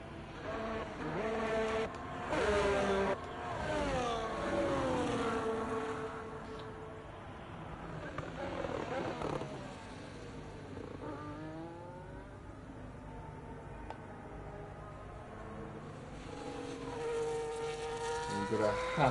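F1 race cars on track at Bahrain in a racing game, engines rising and falling in pitch as they rev and shift through gears, steady and moderately loud, with a commentator talking over them.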